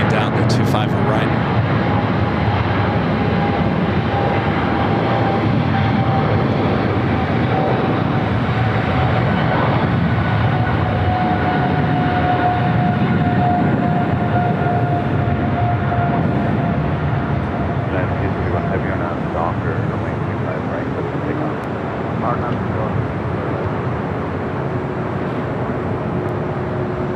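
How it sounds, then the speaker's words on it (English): A Boeing 777 freighter taxis toward runway 25 Right at LAX, giving a loud, steady jet roar with a faint whine. The sound holds nearly unchanged and close by for the whole stretch. "That 777 freighter rolling down to 25 right."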